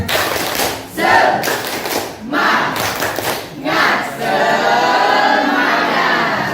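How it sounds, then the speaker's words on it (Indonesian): A seated physics class claps a patterned rhythmic cheer in unison at the end of a lesson, with bursts of sharp group claps separated by brief pauses and then a sustained stretch of steady clapping in a classroom. "Tepuk semangat."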